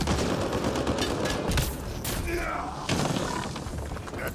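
Shotgun fire in the sci-fi shooter Mass Effect: Andromeda comes as several loud, booming blasts amid dense combat noise and thuds, all close and heavy throughout.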